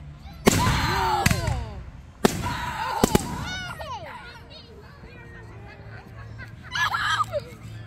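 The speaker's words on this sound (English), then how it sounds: "we usually don't go to see fireworks before" Fireworks go off in a few sharp booms spaced a second or two apart at a Fourth of July celebration, loud and close, with excited voices and children talking between the bursts and a distant crackle near the end.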